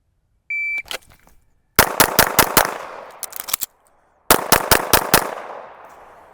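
A handgun fires during a range shooting drill: a beep, then a fast string of about five sharp, loud shots, a pause with the clatter of a reload, and a second quick string of about five shots.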